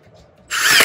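A Milwaukee hydraulic impact driver starts after a half-second of near silence, then runs with a loud, steady, dense buzzing whir that carries on to the end.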